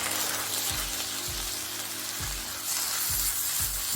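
Chicken tikka masala sizzles and fries steadily in a pan with spices, a continuous close hiss broken by a few soft stirring thumps, with no voices.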